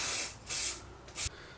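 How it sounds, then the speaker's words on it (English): Aerosol rust converter hisses from a spray can onto a van's window frame in two short bursts, the first longer than the second, close and clear with no voices. "low risk rust converter, just an aerosol spray on."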